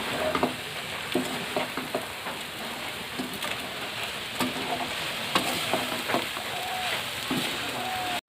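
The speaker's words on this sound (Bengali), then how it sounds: "এবার আমি এটা সুন্দরভাবে মিক্স করে নেব।" Flattened rice pulao being stirred in a pan, a continuous soft sizzle under repeated scraping and clinking of a spatula at an uneven pace.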